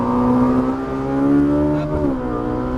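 A Ferrari 458 Italia accelerates on a racing track, its engine note rising smoothly in pitch, dipping briefly at a gear shift and then climbing again, loud and close.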